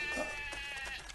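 Sheep and goats bleating in a short burst, with several overlapping wavering cries that sound fairly close and carry over a steady background noise.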